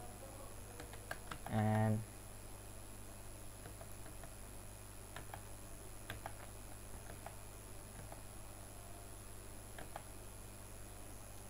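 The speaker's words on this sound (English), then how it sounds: "let's move few frame forward by holding shift and tapping page down key" Computer keyboard keys tapped at a desk: a steady scatter of soft, quiet clicks across the whole span, with a brief louder hum near the start and a single spoken word.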